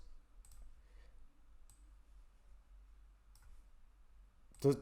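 Computer mouse clicking at a desk, a few sparse faint single clicks spaced a second or more apart over a quiet background, with a louder click-like burst at the end.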